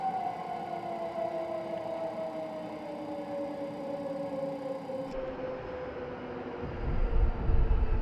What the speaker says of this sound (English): Engines have been shut down.